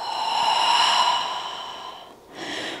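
A long, close, breathy exhale during a yoga movement, tapering off, followed by a short pause and a softer second breath.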